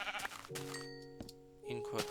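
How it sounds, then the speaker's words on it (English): Sheep bleating inside a house in a video game, several drawn-out bleats with clear harmonic tone, close and fairly loud, with someone talking over and between them. "There's a sheep in my house."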